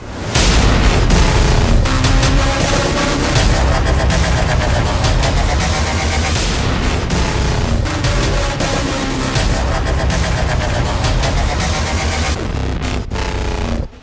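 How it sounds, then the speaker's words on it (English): Sustained heavy booming and rapid gunfire from a very large gun, dense and loud throughout with continuous blasts and rumble, no pauses. "there's a woman shooting at me with a really, really big gun"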